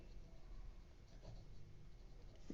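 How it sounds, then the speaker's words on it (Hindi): A narration entry being handwritten during an accounting lesson on debenture redemption, heard as a faint, continuous scratchy rustle of pen on paper with no talk. "नरेशन लिखेंगे"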